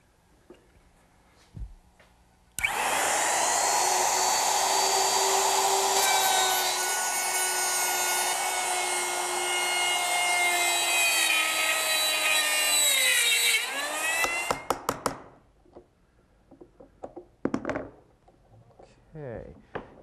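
A router cuts dovetails through oak boards held in a dovetailing jig, giving a loud, steady high-pitched whine with rising cutting noise for about twelve seconds, then spinning down, followed by faint workshop clatter.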